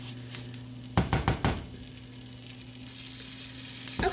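Garlic cloves sizzling in a pan for shrimp scampi risotto, a steady low frying hiss with a few brief louder bursts of stirring or scraping near the start and end, no voices.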